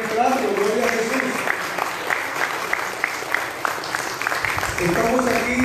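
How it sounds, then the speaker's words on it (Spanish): Congregation applauding at a church wedding, a steady wash of clapping from a crowd in a large room, with voices talking over and around it. "Démosle otro aplauso a los que están entrando."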